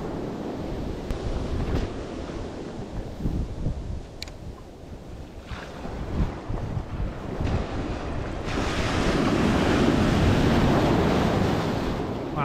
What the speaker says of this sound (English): Some of these waves are quite powerful.